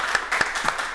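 Audience applause at a Rust programming workshop during a Polkadot event in Barcelona, a short, moderately loud patter of many hands with a few sharper claps standing out.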